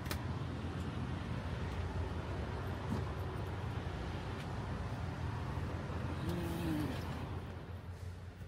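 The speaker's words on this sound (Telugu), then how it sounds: "అండ్ ట్రక్ ఒకసారి ఆన్ చేసి చూపిస్తాను మీకు." A 2022 Mack Anthem semi truck engine runs, giving a steady low, droning rumble that stays even throughout at close range, with no voices heard.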